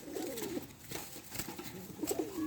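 Sirazi pigeons coo softly and repeatedly, low throaty calls close by over a faint background hiss.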